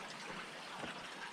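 Crystal-clear water flows in a stream on a solo hike in New Zealand, giving a soft, steady, faint rushing wash for a brief moment with no voices.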